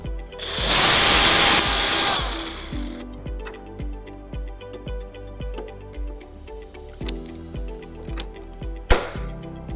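A power drill with a 5mm bit whines loudly for about two seconds as it bores through material, followed by a series of quieter clicks and taps, then a brief final burst.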